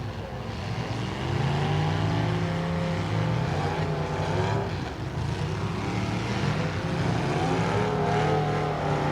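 Race cars roar around a short track during a Bash For Cash event, several engines droning loudly and continuously with rising and falling pitch as they pass, nobody speaking.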